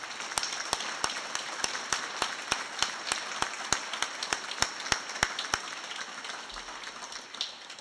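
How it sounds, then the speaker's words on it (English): Clapping at a university space science facility grand opening. One near, very steady clapper sets a quick even beat over a faint wash of audience applause, and the beat stops abruptly after about five and a half seconds. "I would ask that you give him another round of applause"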